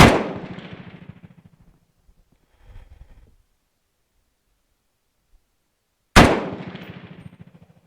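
An STG58 FN FAL rifle fires two loud, sharp shots about six seconds apart, each followed by a long rumbling echo, with a faint clatter in the quiet gap.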